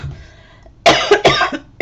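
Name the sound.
coughing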